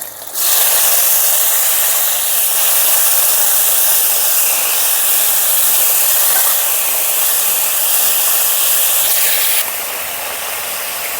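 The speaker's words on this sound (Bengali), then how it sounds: "এখন আমি এর মধ্যে দিয়ে দেব আদা বাটা, আর টমেটো কুচি।" Ginger paste and chopped tomato hit melted sugar in a pan for a vegetarian potato, pointed gourd and paneer curry, setting off a loud, steady, close hiss that suddenly softens near the end.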